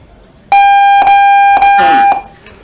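A paintball tournament buzzer sounds at a 5-man playoff game, one loud steady electronic tone lasting about a second and a half with brief stutters, then stopping abruptly.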